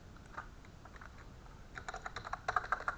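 Typing a meeting name on a computer keyboard, quiet close key taps that start sparse and pick up into a quick cluster toward the end, with no voices.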